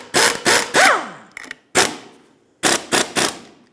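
A 13 mm socket on a ratchet snugs a rear shock mount nut on a 2012-2020 Ford Focus, heard as several short, sharp bursts of clicking close up with brief pauses between them.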